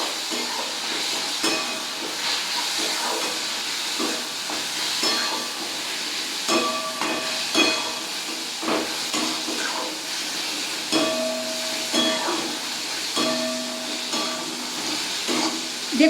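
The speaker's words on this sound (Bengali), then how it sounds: "এই মশলাগুলো আমি পেঁয়াজের সঙ্গে ভালো করে ভেজে নেবো" Garam masala and other spices fry with onions in a hot pan, giving a steady, close sizzling hiss with occasional faint clinks and scrapes from stirring.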